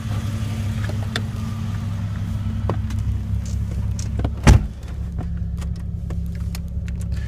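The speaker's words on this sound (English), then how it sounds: "Go ahead and take the vehicle on a quick test drive." A lifted Jeep Cherokee Sport XJ on a test drive: a steady, low engine drone with road rumble from inside the cab, one brief louder knock partway through.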